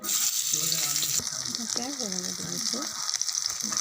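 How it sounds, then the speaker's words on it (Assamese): Onions slide into hot oil in a pan, bursting into a loud, continuous sizzle that stays steady and close; a voice speaks briefly over the frying. "এইখিনি তেলত এইখিনি পিঁয়াজখিনি ঢালি দিম"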